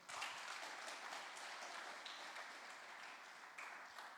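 A church congregation applauds for God during a Portuguese-language sermon, a steady wash of clapping that holds fairly even for about four seconds with a small swell near the end, no voices over it.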